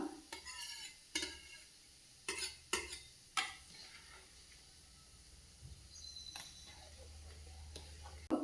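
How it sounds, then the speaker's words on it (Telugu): A spoon knocks and scrapes through boiling rice in a metal pot, with several sharp irregular clanks and quieter stirring and bubbling between them, close and fairly faint. "ఒక ఉడుకు వచ్చిన తర్వాత ఇప్పుడు మంచిగా కలుపుకుందాం"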